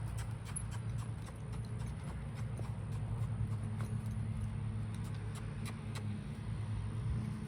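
A colt on its second ride walks in small circles, its hooves making soft, regular clip-clop steps against a low, steady rumble of background noise.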